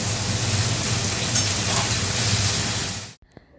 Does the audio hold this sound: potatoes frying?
yes